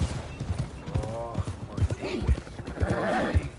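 Rhythmic clip-clop of horse hooves close by in Red Dead Redemption 2, with a horse whinnying partway through, the hoofbeats steady under the whinny.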